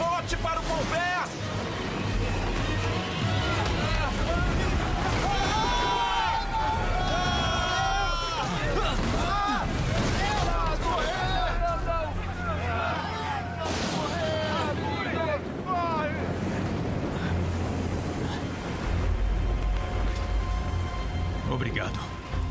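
Stormy sea waves and gusting wind batter a boat in an animated scene, a dense roaring wash under loud music and shouting voices throughout.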